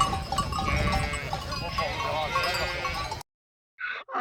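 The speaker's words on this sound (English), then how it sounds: "Sheep are farm animals." Sheep bleating on a farm, a continuous cluster of calls that fills about three seconds loudly, then a sudden cut to silence and a brief final burst.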